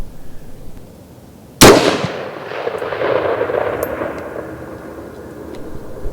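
A single loud rifle shot cracks out during a hunt, sharp and sudden after quiet, then rolls away in a long echoing tail across open ground.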